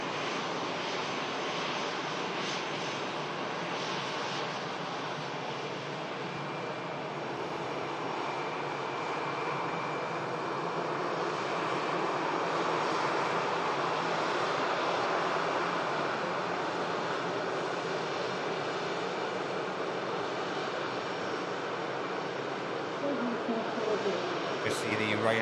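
A 13-year-old EasyJet Airbus A320-200 arriving at Porto, its steady jet engine roar sustained and fairly distant for the whole clip, rising slightly midway, with a voice talking over it.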